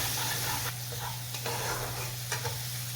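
Spice masala stir-fried with a splash of water in a pan for rajma, giving a continuous soft sizzle and bubbling with scraping stirs throughout, close and steady.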